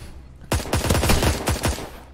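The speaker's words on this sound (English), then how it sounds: "That was a one shot, pretty much." Gunshots in a Roblox dueling video game ring out as a quick cluster of about six sharp reports in under 1.5 seconds, fairly loud, with no talk over them.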